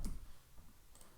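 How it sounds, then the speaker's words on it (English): Faint computer keyboard key clicks, one near the start and another a second later, tapped quietly at a desk during design work in a near-silent room. "I'll hit T on my keyboard"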